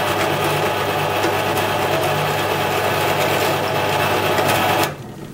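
A 3.5 mm bit drills a pilot hole in wood for a 4 mm screw while a compass is made, giving a steady, close motor whine that runs for about five seconds and then stops abruptly.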